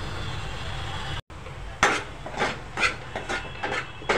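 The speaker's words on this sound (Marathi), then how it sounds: "मसाल्यांमध्ये वाटप कांदा टोमॅटो हे छानपैकी परतून घ्या" Onion, tomato and ground masala paste sautéed in a pan for a Malvani black-eyed pea usal, with a few scraping, rubbing stirs against the pan following a brief pause.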